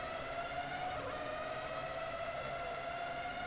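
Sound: race car braking for a corner in Formula One 03 video game

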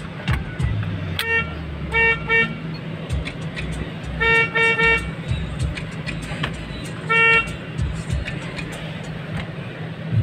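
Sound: Toyota Prius car horn honking

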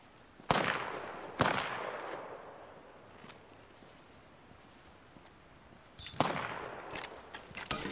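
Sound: gunfire in the video game Apex Legends

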